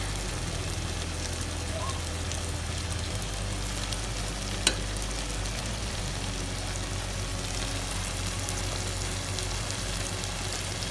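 Tomato paste sizzles in a pan while being stirred for chicken kabsa, a dense, even frying hiss running throughout with a low hum underneath and one sharp click midway.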